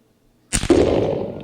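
A single 6.5 PRC rifle shot fired outdoors, one sharp loud crack after near silence, followed by a booming echo that rolls on and slowly fades.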